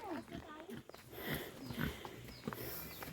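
A pig grunts and snuffles close by during a trip to the mountains, with short low grunts mixed under people chatting.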